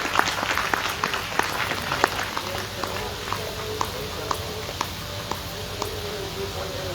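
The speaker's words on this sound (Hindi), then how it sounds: "तालियों के साथ हम उनका स्वागत करेंगे" Audience applause welcoming a speaker at an outdoor Christian mela gathering: steady, dense clapping from a sizeable crowd, even and sustained, with a few sharper claps standing out and faint talk beneath.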